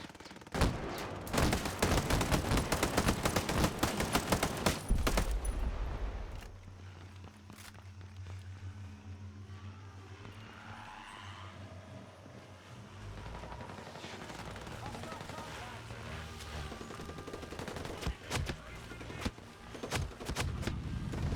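Rapid bursts of automatic gunfire in a Ghost Recon Breakpoint raid, heavy and close at first, then scattered shots continuing over a low rumble and footsteps.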